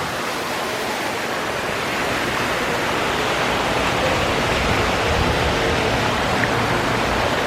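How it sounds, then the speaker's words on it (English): Steady rushing water fills the scene, a broad loud wash of flow with no pauses or voices, from a resort lazy river in Orlando, Florida. "this is the part of the lazy river"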